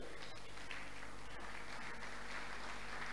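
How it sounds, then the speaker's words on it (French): A church congregation applauds at a Sunday service, a steady dense patter of clapping with a low hum beneath it. "Merci, acclamez pour notre Dieu."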